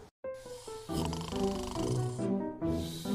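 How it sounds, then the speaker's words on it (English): A bulldog snores in slow rhythmic cycles, each breath a rough, buzzing rattle, close and fairly loud after a brief silent gap at the start. "The bulldog's snores always win."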